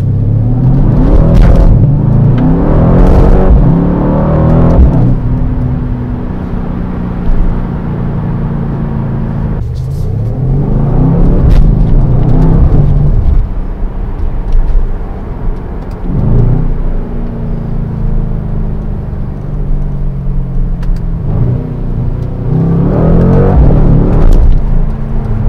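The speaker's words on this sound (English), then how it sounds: "So let's see how fast this car accelerates." A 2020 Mercedes-AMG C63 S Estate accelerates hard through repeated gear pulls, its engine note rising loudly then dropping at each shift, close and powerful with a deep rumble between bursts.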